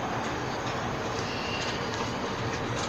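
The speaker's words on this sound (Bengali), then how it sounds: "ট্রেন ছেড়ে দিল আমাদের" The Kanchan Kanya Express pulls out of Sealdah in a steady, dense rumble of rolling rail noise, with a constant broadband roar and faint clatter of the carriages throughout.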